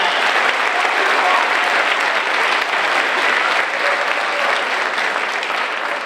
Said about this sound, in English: Just round of applause for even showing up.